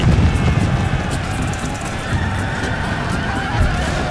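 Horse cavalry regiments in the Empire Total War battle game bring a loud, dense rumble of hoofbeats and scattered whinnies through wind-like battle noise, continuous and close.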